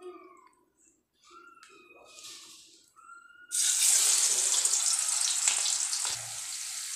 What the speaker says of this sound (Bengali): এবার আমি চিংড়ি মাছটাকে ভেজে নেব ভালো করে।